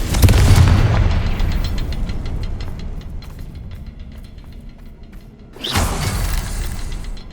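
Two loud Confringo spell explosions go off in Hogwarts Legacy inside a cavern. A deep boom with a long rumbling decay comes first, and a sharper, shattering blast follows a few seconds later.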